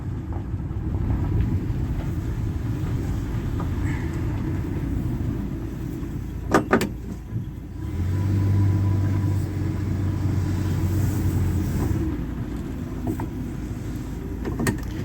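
A 1976 Dodge D100 pickup truck drives along with a steady low engine rumble, a brief clunk during a gear shift, then a rising drone as it pulls away again, heard up close from inside the cab.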